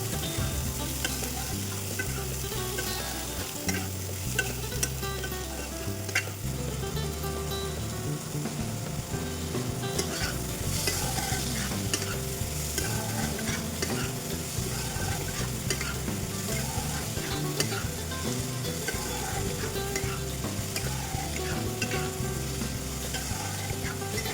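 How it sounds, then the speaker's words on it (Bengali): Continuous crackling sizzle of bottle gourd frying in oil, with occasional scraping of a spatula stirring the pan; close, steady and dense throughout, no talking. "তো লাউগুলো আমি একটু ভেজে নিয়েছি"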